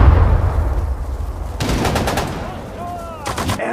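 Infantry gunfire in the Sudden Strike 4 Pacific War campaign at the Battle of Saipan: two bursts of rapid machine-gun fire cut in, with a low rumble and distant battle noise between them.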